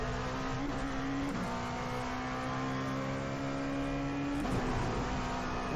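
An LMP2 prototype race car's engine drones loud and steady at high revs around Watkins Glen in the iRacing sim, with brief pitch dips at gear changes or braking near the start and end.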